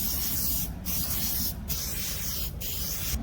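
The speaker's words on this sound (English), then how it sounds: "so I'll give it a quick coat of paint." Aerosol spray paint hisses over a punching bag ceiling mount in steady close bursts, with three short pauses between passes.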